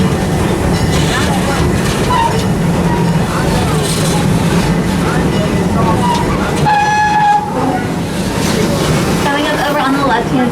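Park train ride at Busch Gardens Tampa Bay rolling along its track, a steady rumble with clacking wheels and a brief horn-like tone, under continuous talk from a narrator and chatter from nearby riders.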